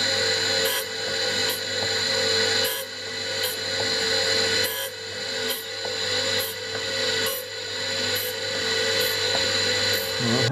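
Hand file rasping on a steel screw for a 6-inch offset Irwin vice, in loud, close, regular back-and-forth strokes of about one per second that repeat steadily over a humming workshop background.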